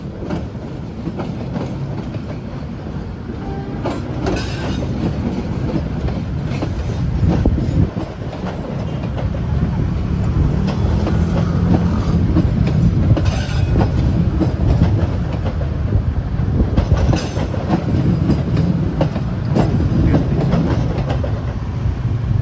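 Papandayan passenger train rolling slowly past, a loud continuous rumble with rhythmic clickety-clack of wheels over rail joints and occasional faint wheel squeal, close to the track.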